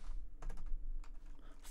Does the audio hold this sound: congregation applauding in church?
no